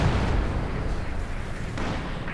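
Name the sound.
mortar and field gun fire in Company of Heroes 2 video game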